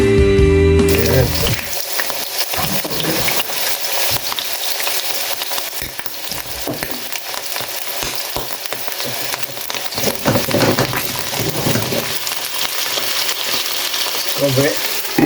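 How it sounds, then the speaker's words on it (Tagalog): Chicken frying for kalderetang manok, a loud steady sizzle with stirring scrapes running throughout, and speech briefly heard near the start. "Let's fry a little bit."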